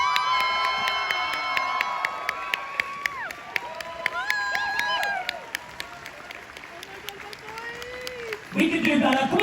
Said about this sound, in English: we have to make the NEC rumble when we cheer these guys onto the stage